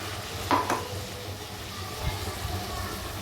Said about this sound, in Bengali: সয়াবিনটা ভাজা হয়ে গেছে এইবারে আমি যে মশলাটা রেডি করে রেখেছিলাম সেই মশলাটা এর ভিতর দিয়ে দিলাম